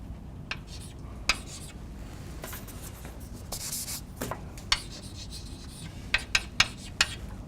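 Chalk or marker writing equations on a board during a lecture, a steady close scratching and rubbing with short tapping strokes near the end, over quiet room tone.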